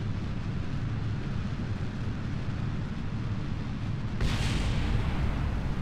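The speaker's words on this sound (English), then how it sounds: "I hear an explosion." Rocket explosion in the spaceflight game Kerbal Space Program, a dull continuous roar that swells into a sudden louder burst near the end and stays loud through the close.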